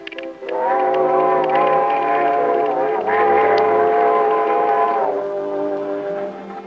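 A sustained train horn blares for several seconds as the train arrives at a station, a chord of steady tones that dips briefly and resumes, loud and close.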